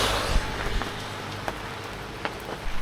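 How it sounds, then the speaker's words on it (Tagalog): Heavy rain hisses and patters on a surface, with a few sharper drops and faint thumps, no voices. "Lakas ang ulan!"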